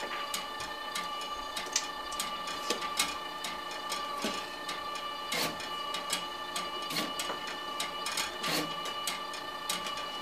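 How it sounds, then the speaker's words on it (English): A LAB500 tag labeling machine with an automatic input feeder runs steadily for ten seconds, giving a constant mechanical hum under dense, rapid ticking and clacking that is loud and close, with no voices. "we're going to start the labeling part, then the input feeder, and the automatic feeder."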